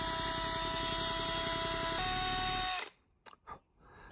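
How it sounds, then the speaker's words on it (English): A power drill spins a bit through holes in a wooden channel, a loud, steady whine that shifts pitch partway through and then cuts off abruptly, leaving a few faint handling knocks. "you can actually take your drill bit and put it in the hole"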